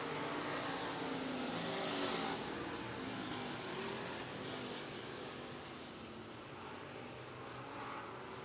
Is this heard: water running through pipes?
no